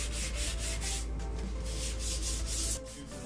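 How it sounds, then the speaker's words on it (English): Steady, continuous rubbing of sandpaper on a wooden shovel handle in quick, even back-and-forth strokes, close up and fairly loud. "I'm getting a little too crazy with the sanding."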